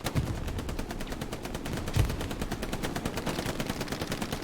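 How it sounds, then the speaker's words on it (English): Machine guns fire from both sides in a Hell Let Loose 18v18 match, with rapid, evenly spaced bursts of shots running continuously at moderate distance and no voices. "Early MG fire from both teams."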